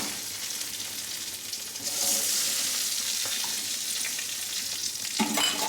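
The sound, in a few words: paneer frying in a pan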